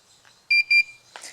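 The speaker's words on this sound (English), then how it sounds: "you'll hear 2 beeps when you turn that on" A DJI Phantom 2 Vision Plus drone gives two short, clear electronic beeps in quick succession as its FCC mode is switched on, with faint background noise around them.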